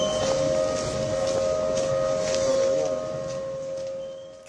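A civil defence air raid siren wails across a city in India during a blackout. It holds one sustained, moderately loud tone over a rumbling background and fades slightly at the end.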